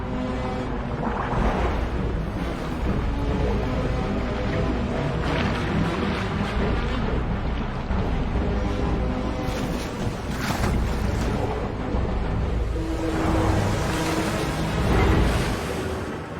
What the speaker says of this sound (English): But many are thrown back by the surf.